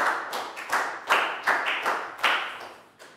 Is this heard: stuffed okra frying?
no